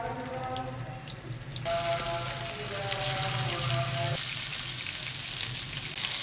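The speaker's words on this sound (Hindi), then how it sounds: "इनको अब हम फ्राई कर लेंगे।" Frozen raw minced-meat kebabs for burgers frying in a pan, a loud steady sizzle that swells and crackles as they hit the oil, continuous and close with no talking.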